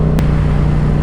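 A Yamaha R7 motorcycle being ridden gives off a steady, close engine drone with a constant low tone and no clear change in revs, heard alone without talk.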